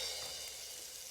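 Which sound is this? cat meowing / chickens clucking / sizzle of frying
sizzle of frying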